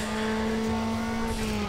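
A car power-slides through a corner in Need for Speed Underground during a drag tournament, a steady loud engine drone with a high tire squeal layered over it, continuous and close.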